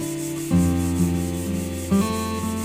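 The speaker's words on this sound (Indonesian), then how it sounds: "untuk amplas 120 ini cara ngamplasnya jangan sampai terlalu panjang melewati tempulan" Steady back-and-forth rasp of 120-grit sandpaper rubbing body filler, close and continuous, with a low motor-like hum underneath and no voices.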